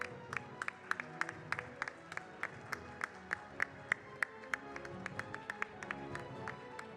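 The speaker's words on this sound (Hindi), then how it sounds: "तालियां रुकनी नहीं चाहिए।" An audience at a media conclave gives sustained applause as a managing director is welcomed to the stage, a steady run of distinct, fairly even claps at moderate distance.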